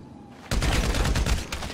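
A loud burst of gunshots in GTA Online, sudden onset after a quiet moment, several rapid cracks packed close together over about a second.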